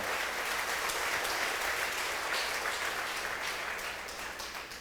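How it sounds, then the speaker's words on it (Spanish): A church congregation applauds together during a Spanish-language sermon, a dense, steady wash of many hands clapping at close range that holds for several seconds and eases slightly toward the end. "Dale un aplauso al Señor, por favor."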